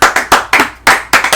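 A few sharp, distinct hand claps ring out close up in an uneven rhythm, each burst decaying quickly before the next, like a small, loose round of applause in a room.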